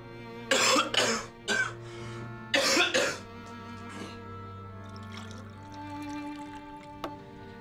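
A man coughs in a room, a few harsh bursts close to the listener followed by a quieter cough, then soft rustling and faint background hum.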